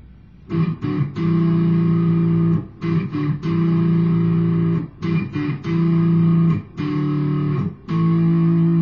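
A distorted electric guitar plays the first riff of a song, chugging along in sustained chord bursts with brief muted breaks, loud and close with no talking.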